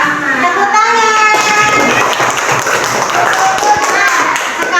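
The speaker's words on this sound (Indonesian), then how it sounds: "Tepuk tangan" Classroom clapping from students after a group presentation, a steady dense patter of many hands close by, with children's voices and chatter mixed in throughout.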